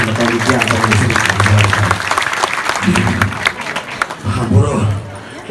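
Applause from a crowd at a Calonarang temple ceremony, heard under loud nearby talk, with clapping rising and falling across the moment.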